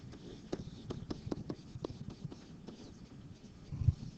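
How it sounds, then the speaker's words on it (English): A pen or marker writes out a math derivative by hand, giving soft irregular taps and scratches in quick clusters, close and quiet, with no voice. "okay, let's write down the second one."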